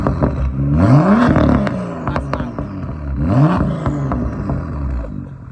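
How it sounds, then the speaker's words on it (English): Revving on a BMW with its M Performance exhaust valves open: two loud rising revs, each climbing in pitch and then falling back with crackles and pops, heard close with no speech. "So the M Performance exhaust is open."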